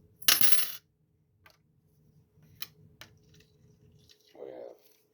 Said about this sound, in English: Let's begin with divination from the coins.